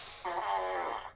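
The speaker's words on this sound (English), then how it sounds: "getting cranky that I'm playing with the fart machine" A novelty fart machine lets out one long, loud, buzzing fart lasting about a second, sharp at the start and sputtering out at the end.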